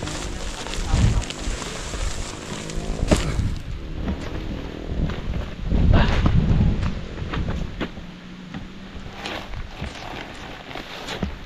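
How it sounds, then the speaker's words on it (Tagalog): Rain falls steadily with rumbles of thunder, low booms swelling a few times in the open air while a voice speaks now and then. "Umuulan."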